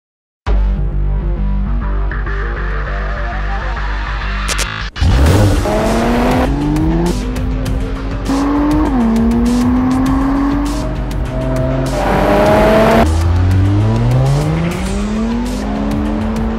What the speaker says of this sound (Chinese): 我现在正在驾驶的是一辆奔驰 AMG